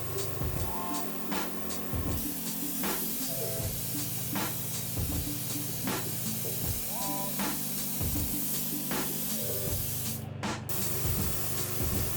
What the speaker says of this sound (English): So we often just airbrush in a little bit of white, which helps to brighten up those brighter colours.